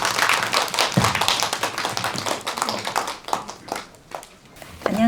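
An audience at a family self-advocacy contest breaks into sustained applause to welcome a speaker, dense clapping that thins out toward the end.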